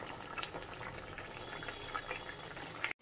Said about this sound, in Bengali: এবার একটু দিয়ে 5 মিনিট ফুটিয়ে নিই